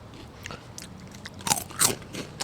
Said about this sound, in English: if you hear us crunching and munching, then that's the hot Cheetos